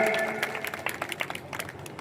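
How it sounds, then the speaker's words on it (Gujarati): Clapping from a village crowd greeting a member of the legislative assembly at a Gujarati temple renovation gathering in Khandek, a dense patter of many hands that starts strong and gradually thins out. "આજે આપણે ધારાસભ્યશ્રી માટે એકવાર તાળીઓથી વધાવીએ."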